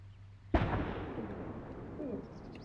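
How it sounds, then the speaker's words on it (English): A controlled demolition explosion in a military video game set on a road patrol operation: one sudden loud boom followed by a long rumbling decay, with a voice faintly heard nearby. "Explosion, northwest."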